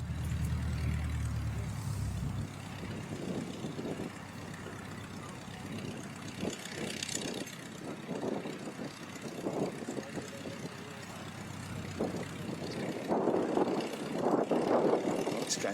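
A Spitfire taxiing on the ground: a steady, low engine drone rumbles throughout at moderate distance, with a rougher propeller throb swelling louder toward the end and some faint, indistinct knocks and noise mixed in.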